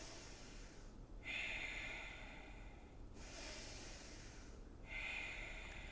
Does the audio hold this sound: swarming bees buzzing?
no